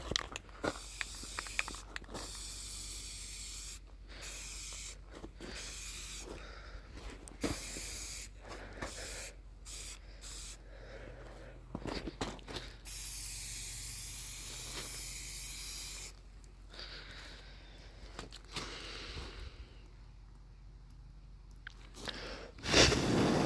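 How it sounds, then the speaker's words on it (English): Bursts of spray paint hiss from an aerosol can onto a metal deer stand, in repeated short and longer sprays separated by brief quiet gaps, close and fairly soft. "I don't really know enough about spray paint to know if I should be doing this while the metal's wet."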